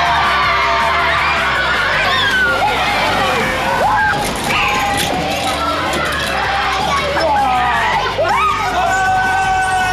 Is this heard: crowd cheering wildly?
yes